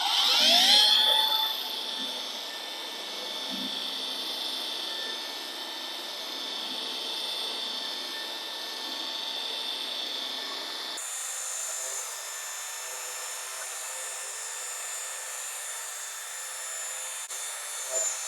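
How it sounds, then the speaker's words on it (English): Polisher buffing polish on the paint of a Ford Mustang GT at speed setting 4: a steady, close whirring motor hum with a sustained tonal whine, holding level throughout with a brief louder burst at the start and a change in pitch partway through. "we're ready to start buffing"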